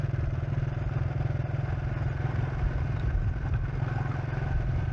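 A motorcycle riding past flooded rice fields in Thailand, its engine a steady close drone with a rapid regular pulse and some clatter, continuous and fairly loud with no talking.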